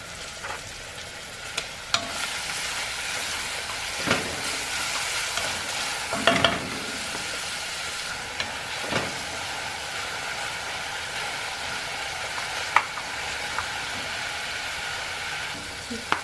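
Chopped onion fries in a pan for a pot of beans, giving a continuous close sizzle broken by occasional clinks and scrapes of stirring.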